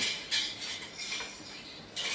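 A spoon scrapes and clinks against a pot while khandvi batter is stirred, steady scraping strokes close up, with no talk.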